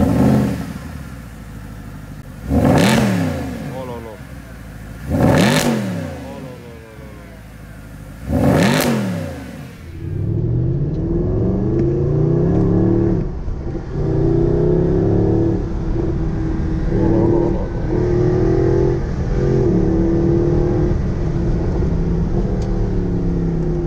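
Mercedes SLS AMG with a naturally aspirated V8, loud nearby, three sharp revs blipped to high rpm a few seconds apart, then a steady rumbling idle that runs to the end.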